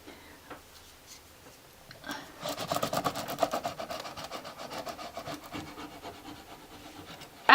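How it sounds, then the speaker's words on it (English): A rub-on transfer pressed onto a painting surface: after a quiet start, a sustained run of quick, rhythmic scratchy rubbing strokes, close and moderately loud, fading toward the end. "so I'm going to rub this on"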